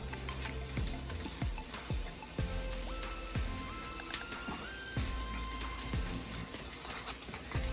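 Frozen spinach sizzles and crackles in a frying pan with creamy garlic chicken and potatoes, a steady close frying hiss with occasional stirring and soft clinks.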